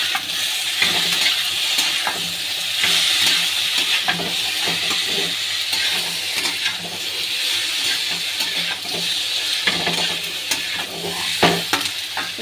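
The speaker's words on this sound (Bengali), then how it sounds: "কাঁচা লঙ্কাটাও দিয়ে দেবো, ফুলকপিটাও দিয়ে দেবো, দিয়ে হালকা এমনি কষে নেব।" Green chilli and cauliflower sauté in a pan with a steady, loud sizzle and hiss, punctuated by repeated spatula scrapes and stirring clatter against the metal throughout.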